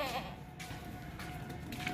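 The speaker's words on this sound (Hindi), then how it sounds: "ये बकरा चेक करें, ऊंचे कद वाला है" A goat at a livestock sale gives a brief bleat at the start, followed by a steady low hum and faint ambient noise over two seconds.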